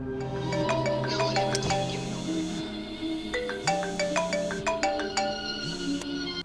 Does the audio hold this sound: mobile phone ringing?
yes